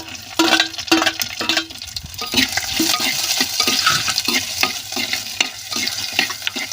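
Shallots fry in hot oil for country chicken soup, giving a close, lively sizzle broken by rhythmic scraping strokes of a spoon against the pan.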